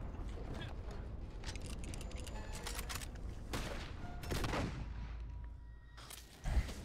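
Faint gunshots in a video game as someone fires at a character named Harold: scattered sharp bursts over a low background rumble, with a louder thump near the end.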